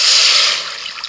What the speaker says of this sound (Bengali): প্রথমে যে চিকেনটা সিদ্ধ করে নিয়েছিলাম সেখান থেকে চিকেনের যে সিদ্ধ করা জলটা আমি ছেঁকে নিচ্ছি।